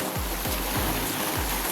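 Sea waves wash onto a littered shore in a steady, loud surf roar, with low rhythmic thumps of water breaking several times.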